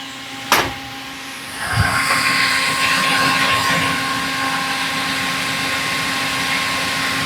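Chevrolet LUV pickup engine running on a swapped carburetor, a steady rough idle hum with a sharp knock near the start, continuing alone at moderate loudness.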